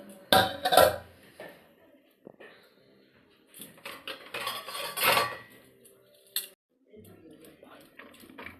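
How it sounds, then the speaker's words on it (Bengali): Cooked rice is tipped into a pan in bursts of metallic clattering and spoon scrapes, with quieter gaps between pours, while someone talks over much of it. "এই যে ভাতটা ঢেলে নিচ্ছি"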